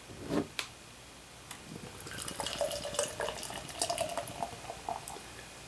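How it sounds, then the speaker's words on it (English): Stout beer poured from a can into a glass, a soft gurgling, fizzing stream after a couple of can clicks, close and quiet, with no talking. "Alright, pouring out of the can here"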